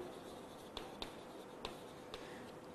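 A teacher writes an example on a board, producing a run of soft scratchy strokes punctuated by four distinct taps, close and faint against a steady hiss, with no speech.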